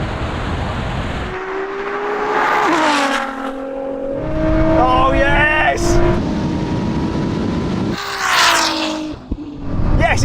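A Ferrari V12 and a NISMO V6 launch side by side in a drag race, engines revving and climbing through rising, shifting tones, close and loud, with excited voices shouting over them.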